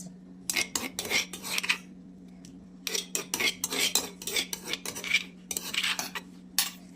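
Spices, with cumin and carom seeds mentioned alongside, are pounded coarsely in a mortar, giving close, sharp, rapid metallic-sounding strikes in bursts with short pauses between them over a low steady hum.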